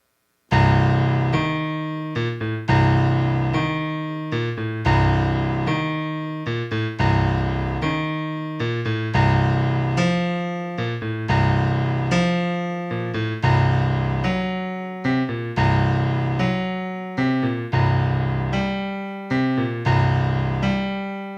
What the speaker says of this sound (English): it's a very obsessive bass line. It keeps repeating the same lower note over and over again.